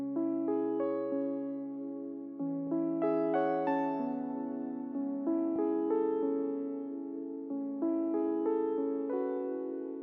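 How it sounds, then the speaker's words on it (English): Dark, emotional sampled piano one-shot playing a slow melody of sustained chords and single notes that ring out and fade before each new strike, clean and alone. "This is a piano shot. It's called Deep Thought. It sounds like this,"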